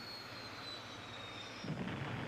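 A helicopter in a Doctor Who episode, heard as a steady, faint engine drone that swells slightly near the end, with no talking.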